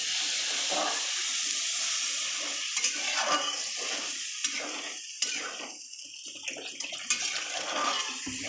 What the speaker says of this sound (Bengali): মশলাটা কষানো হয়ে গেছে এবার আমি জল দিয়ে দিলাম